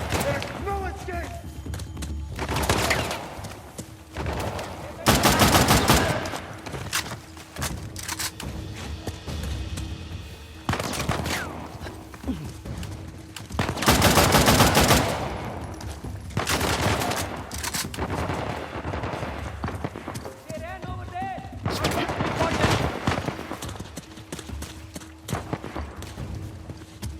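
Bursts of gunfire in a shootout from Uncharted: The Lost Legacy, several loud volleys of rapid shots spread across the stretch, with voices and game sound between them.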